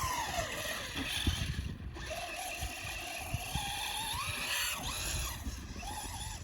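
A Traxxas Slash 4x4 VXL RC car on 2S power races over a snow track, its electric motor whining up and down in pitch as it accelerates and spins out, heard fairly close and continuous.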